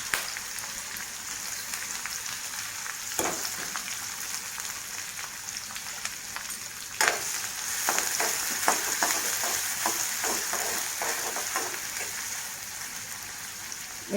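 Chopped onions fry in a pan with asafoetida, a continuous close sizzle with occasional sharp crackles and stirring scrapes, no voices.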